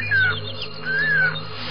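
A hawk calling in two drawn-out, thin whistled cries separated by a short gap, fairly close and clear over a steady low background hum, with no one talking.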